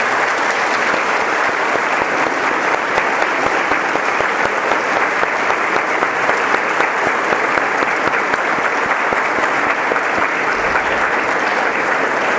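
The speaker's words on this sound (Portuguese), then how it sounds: "Eu queria pedir uma salva de palmas" A large gathering at a charity talk gives a long, steady round of applause for the volunteers, dense and continuous clapping that fills the hall at an even loudness throughout.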